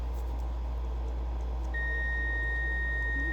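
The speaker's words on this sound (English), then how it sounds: "You hear it beeping? It's got continuity." A steady, high electronic beep from a multimeter continuity test on a lawnmower ignition switch starts partway through and holds continuously over a low background hum.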